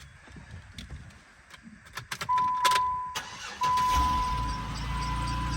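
A few light clicks and rustles, then a worn budget Jeep engine cranks briefly, stalls, cranks again and fires into a steady, rumbling idle nearby.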